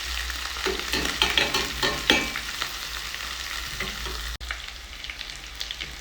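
Small omena fish frying in hot oil in a pan, a steady close sizzle and crackle with scraping stirs and a brief clatter partway through, no voices.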